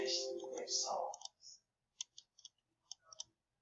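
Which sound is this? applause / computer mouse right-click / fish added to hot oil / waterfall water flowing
computer mouse right-click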